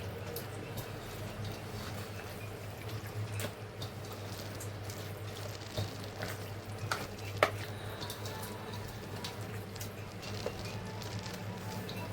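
Chicken and shrimp cook in a pan with spices and garam masala being stirred through, a faint, steady sizzle broken by occasional soft scrapes and taps, with a low hum beneath.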